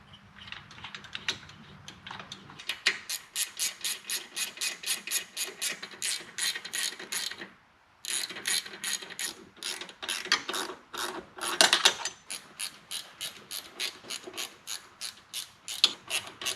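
A ratchet clicks rapidly and steadily up close as it tightens rocker box bolts on a 2004 Harley-Davidson Road King Twin Cam. The bursts of clicking pause briefly about halfway through, then resume.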